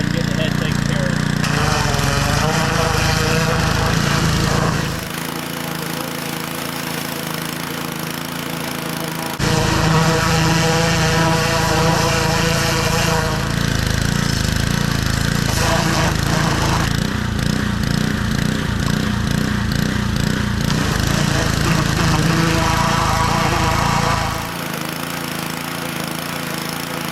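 A power washer runs loud and steady, used to clean a boiled deer skull, with its engine drone cutting out and restarting in several bursts. Voices talk faintly underneath.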